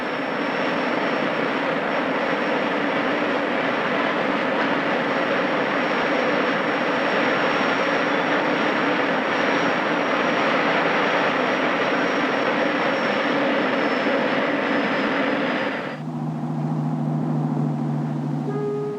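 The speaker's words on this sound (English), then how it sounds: "For all its power, it's the simplest aircraft engine ever devised." A 1959-era Pan American jet airliner engine runs with a loud, steady roar and a thin high whine, then drops abruptly to a lower, humming idle near the end.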